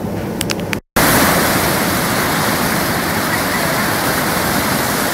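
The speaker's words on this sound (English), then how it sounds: "the water is flowing quite fast at the moment" Fast-flowing water on a whitewater course roars loud and steady after a brief cut, a dense, continuous rushing close by with no talking.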